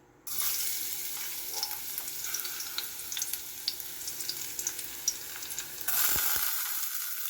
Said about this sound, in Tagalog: magpainit po tayo ng mantika sa kawali. At ilagay po natin ang ating bawang